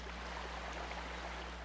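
Steady rushing waterfall in the Twilight Princess HD video game, a continuous broad wash of falling water heard alone at a constant level.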